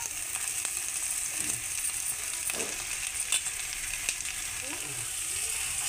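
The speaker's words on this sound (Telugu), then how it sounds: "ఒక పెద్ద ఉల్లిపాయ కోసుకుని వేసుకోవాలి. పోపు వేగిన తర్వాత చక్కగా వేగనివ్వాలి." Chopped onion fries in oil seasoned with tempering spices for a brinjal curry, giving a continuous bright sizzle broken by light scrapes and taps of a stirring spoon.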